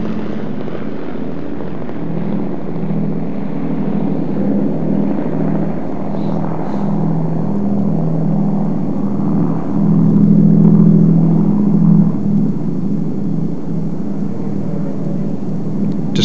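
A deep, steady drone of a WWII Lancaster bomber's propeller engines runs throughout, swelling slightly louder near the middle before settling back.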